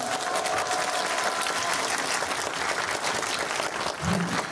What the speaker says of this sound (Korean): 저희 같이 박수 치면서 이 자리 마감하도록 하겠습니다